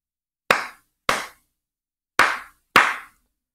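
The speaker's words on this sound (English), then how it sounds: "you will hear the clapping that you just recorded" Four recorded hand claps play back in an ear training app, sharp, close and evenly loud, spaced unevenly in a short rhythm with silence between each.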